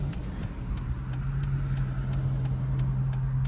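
A Dodge Charger RT idles at a city traffic light, a steady low engine hum that is close and constant, with faint regular ticking above it and no talk.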